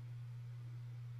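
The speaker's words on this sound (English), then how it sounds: "Deploying flashbang." A flashbang grenade in CS:GO leaves a steady, pure ringing tone, a constant low hum held without change and without any talking.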